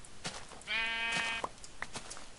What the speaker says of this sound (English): Sheep. Sheep, sheep, sheep, sheep, sheep.